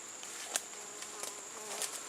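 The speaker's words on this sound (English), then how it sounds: "Whoa, there's a bee right by me." Bees buzzing around a hive inside a tree outdoors, with a steady high insect drone and several individual bees zipping close past, louder in brief swells.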